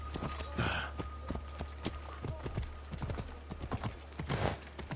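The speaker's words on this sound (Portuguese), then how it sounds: "Vamos de cavalo, é melhor." A horse gallops in Assassin's Creed Odyssey, its hooves striking in quick, steady clip-clop beats over a low engine-like drone, with a snort or breath breaking in now and then.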